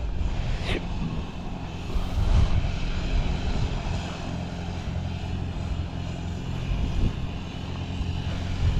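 A steady, droning engine rumble runs throughout, low and constant, from a Super C tractor pulling a grader on a driveway, with no speech.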